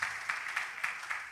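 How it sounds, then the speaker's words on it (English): Students at a school freshers orientation give scattered, soft applause, a faint wash of clapping with small bursts roughly every quarter second. "the media students are clapping for the cosmetology HOD"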